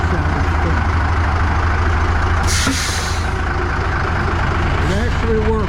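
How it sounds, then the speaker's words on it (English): A 1965 Kenworth truck's Cummins 855 inline-six diesel runs steadily and loudly up close, with a brief hiss partway through and faint voices in the background. "You hear that beautiful 855-inch Cummins inline 6. Beautiful sound"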